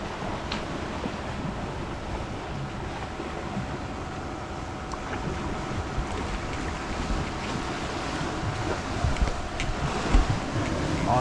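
Wind rushes steadily over the microphone while strong sea swells wash and churn around a fishing boat at sea off Pulau Rimau, a constant rough roar that builds slightly toward the end.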